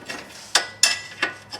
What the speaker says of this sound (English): hold the head of the bolt, and back the nut on